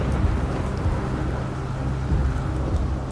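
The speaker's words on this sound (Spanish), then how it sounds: "el viento y la lluvia penetraron aullando de forma ensordecedora" Thunderstorm with wind and rain in an audiobook, a dense continuous roar of rain and gusting wind with low rumbling thunder swelling underneath, loud and steady without any voice.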